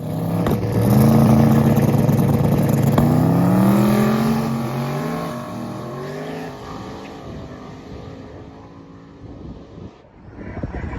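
Race cars compete in a road course final at I29, with a loud engine roaring and revving up close, its pitch climbing through the gears before fading as the car pulls away.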